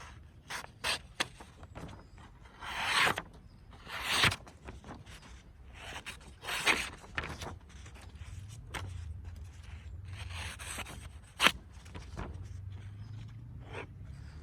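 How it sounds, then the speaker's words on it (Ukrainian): An HK4 knife slices through plain A4 paper in a sharpness test, giving short, dry rasping swipes in irregular bursts, close and fairly quiet, with brief sharp ticks between cuts and no talking. "Провіримо заточку ножа на папері."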